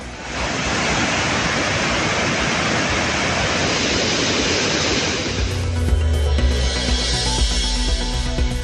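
Manimuthar waterfall, swollen with floodwater, roars as a loud, dense, unbroken rush of falling water.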